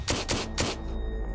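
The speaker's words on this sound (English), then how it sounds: "a burst of gunfire rings out behind them." A burst of gunfire in a street behind a moving car: three sharp, loud cracks in quick succession, followed by a fading tail and a faint steady hum.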